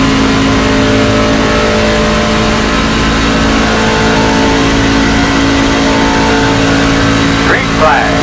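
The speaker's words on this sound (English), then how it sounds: "Gotta run it up high right here. Get this truck wound out." Race truck engine in the Craftsman Truck Series at Daytona, a loud, steady, high-revving roar held wound out for the whole stretch, close and continuous with a slight pitch change near the end.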